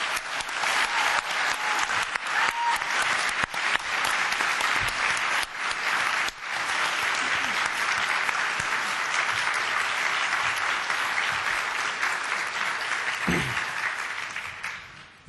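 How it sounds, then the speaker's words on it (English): A banquet audience at a national convention gives staff a long, dense round of applause, a steady roar of many hands clapping at even loudness for some fifteen seconds before slowly tapering. "But let's give these wonderful staff members a round of applause."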